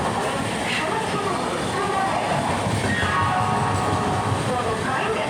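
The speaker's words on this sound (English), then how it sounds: "3 number platform से through train जाएगी" A through train rolls past a platform at Bhadreswar railway station in India: a continuous loud rumble and rattle of wagons with some clatter, overlapped by station announcements and chatter.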